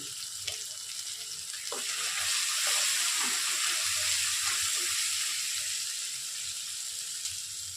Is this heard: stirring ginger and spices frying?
yes